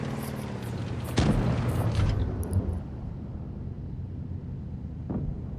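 An Alecto tank cannon fires an armour-piercing round in a tank video game: one loud, close boom over steady engine rumble, its echo fading slowly, with a fainter thud later.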